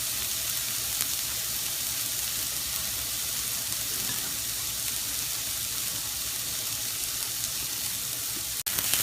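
Onions sizzling in a pan as they soften and caramelize for a stuffed-shell meat sauce, a loud continuous frying hiss close up, ending in a brief sharp knock near the end, with no talk.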